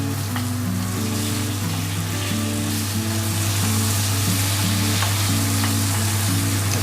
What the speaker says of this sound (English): Then we'll baste the steak with it.